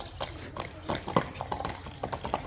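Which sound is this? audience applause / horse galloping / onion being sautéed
horse galloping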